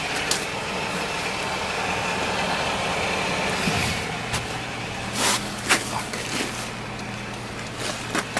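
A 2000 Toyota Camry LE idles just after startup, a low steady hum settling in, with a few sharp clicks and thumps of handling or movement near the microphone.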